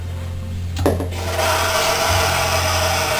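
An electric mixer stirs banana bread batter as dry mixture is added. A short clatter comes first, then the motor starts up into a steady, close, humming whir that runs to the end.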